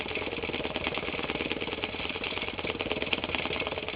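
A longarm quilting machine stitches steadily through bulked-up thick quilt layers, giving a continuous, even mechanical drone with a fast rapid needle pulse, close and alone with no talk.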